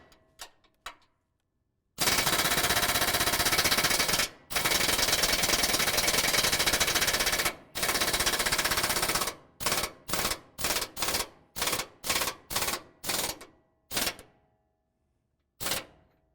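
Impact wrench pulling the upper control arm pivot bolts on a 2024 Ford F-150: a few quick taps, then three long, loud rattling bursts, followed by a run of about nine short, sharp bursts with brief pauses.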